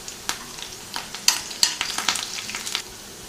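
Chopped onion and curry leaves frying in oil in a pan, giving a soft sizzle broken by several sharp crackles and stirring clicks, close and alone with no talk.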